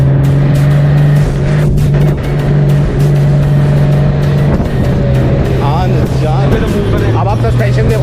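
A matt black 2022 Honda Goldwing with an automatic, clutchless transmission accelerates with a smooth, steady engine hum that climbs in pitch near the end, while someone talks over it.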